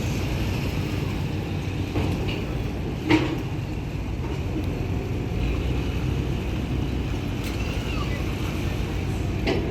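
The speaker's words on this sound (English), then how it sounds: "There's a ton of boats. It's pretty entertaining watching these tenders." Tender boat motors rumble low and steady across the harbor at Cabo San Lucas, with faint voices and occasional clanks in the background.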